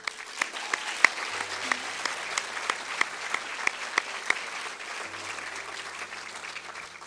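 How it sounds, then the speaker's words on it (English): A pageant audience at the Dale Fall Festival Queen's Pageant gives a steady round of applause, with many hands clapping in a dense, even wash and a few sharper claps standing out across the whole stretch. "Give them a round of applause."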